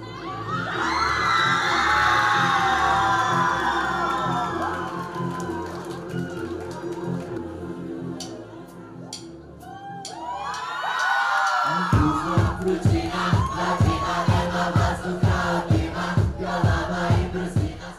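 A packed club full of teenagers screams and cheers for a band. The shrill crowd noise is loud and sustained, then gives way to a steady pounding beat with rhythmic shouting over it.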